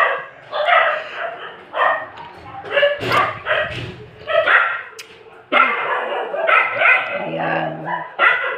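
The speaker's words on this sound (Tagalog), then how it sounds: "Maingay ang mga aso ko." A voice talks over several dogs barking and yipping nearby, with short bursts of barking breaking in and out.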